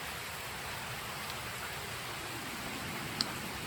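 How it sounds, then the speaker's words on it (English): Steady rain falling outside a garage, a continuous dense hiss of drops that stays even and fairly loud throughout, with one faint tick near the end. "Well, it's still raining"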